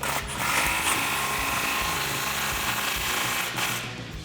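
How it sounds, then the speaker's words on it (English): Power tool tightening an exhaust pipe clamp during a Borla Stinger S-Type dual exhaust install on a 2011-2014 Ford F150 EcoBoost, a loud steady whirring rattle held for several seconds before easing off near the end. "now we can tighten down our clamp"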